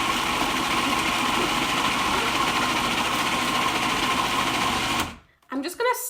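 A food processor whirs steadily at full speed while blending hummus, a loud continuous motor drone that cuts off abruptly near the end, followed by brief handling clatter.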